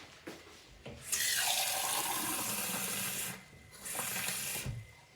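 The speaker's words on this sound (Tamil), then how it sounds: "இதோட இப்போ தண்ணியும் கலக்க போகிறேன்." Water runs in a steady, fairly close stream as it is poured into thick coconut milk for a Sri Lankan achu palagaram batter, with two sustained pours separated by a short pause.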